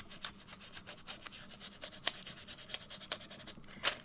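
Acrylic paint is rubbed through a stiff stencil onto an art journal page, giving quiet, close, repeated scratchy strokes in a steady rhythm.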